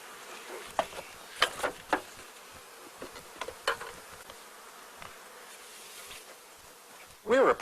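Honey bees buzz around an apiary hive in spring, individual bees zipping past close by in short, rising and falling passes over a quiet background, one loud pass at the end.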